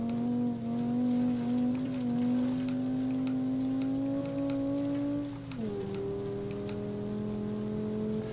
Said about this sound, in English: This isn't a 4, this is an inline 5. This is making I5 noises.